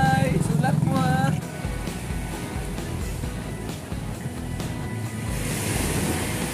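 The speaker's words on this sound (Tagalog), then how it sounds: "Dagat." Ocean surf at the sea in Mati City, a steady broad wash of waves with wind rumble on the microphone, loud throughout; a voice talks briefly near the start.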